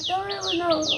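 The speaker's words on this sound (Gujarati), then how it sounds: "ચકલી બોલે છે કેવી પાછળ" A sparrow chirps in the background of a home, giving about three quick, bright, descending chirps over a steady voice-like tone.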